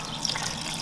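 Water drains out of an old diesel tractor in a soft, steady trickle, faint and close, alone for under a second.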